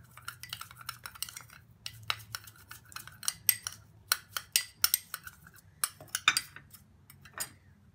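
Coffee and other ingredients being mixed in a bowl with a spoon, a rapid irregular series of close clinks and scrapes against the bowl, no talking.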